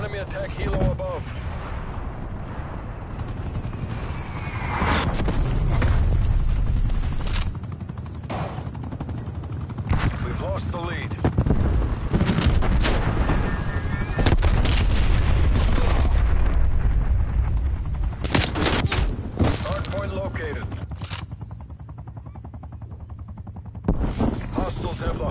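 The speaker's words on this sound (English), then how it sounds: "Incoming artillery." Heavy explosions and gunfire in a video game battle, with repeated loud booming impacts and bursts of shots throughout, under intermittent voices.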